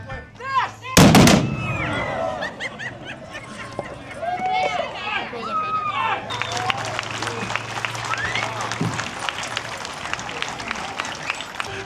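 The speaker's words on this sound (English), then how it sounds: "those gunshots are super loud, like really, really loud." Gunshots at a western stunt show in the Goldfield ghost town, one very loud close blast followed by a denser spread of cracks and clapping from a crowd, with voices and shouting throughout.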